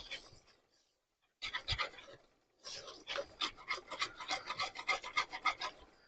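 Wire whisk rasping rapidly against a bowl while whipping cream for a gingerbread and cranberry Christmas trifle, with rhythmic close scraping strokes in bursts separated by short pauses.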